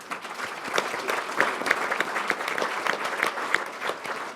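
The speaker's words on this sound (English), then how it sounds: "So a big round of applause again for our panel." An audience applauds a panel at the close of an investor session for the car wash industry, with moderate, steady clapping from a modest crowd heard alone.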